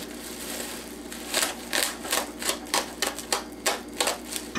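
Packaging tape being ripped open on a keyboard kit shipment, a string of quick tearing and crinkling bursts, close and fairly loud, with no talking.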